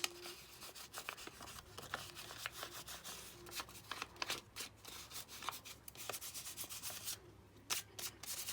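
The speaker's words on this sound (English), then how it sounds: "you can use your fingers to just sort of rub it off" Fingers rub excess gold leaf off a surface, giving soft, close, continuous scratchy brushing with quick irregular strokes, very faint and without talk.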